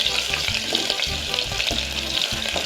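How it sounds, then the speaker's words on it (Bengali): Chopped onions fry in hot oil with a loud, continuous close sizzle, broken by rhythmic scraping and stirring strokes in the pan. "পেঁয়াজ কুচি দিয়ে আমরা ভালো করে ব্রাউন করে ভেজে নেব"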